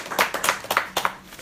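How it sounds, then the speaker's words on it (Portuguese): A church congregation breaks into brisk applause during a prophetic worship service: a short, dense patter of many hands clapping, with sharp individual claps rising above the crowd. "Vamos aplaudir quem está aí."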